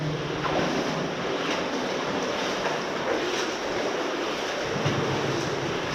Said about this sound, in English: There's quite a lot of water coming out.